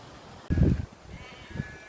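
A Gotland sheep running away across a field gives a single short bleat, near and fairly loud, followed by a fainter second call.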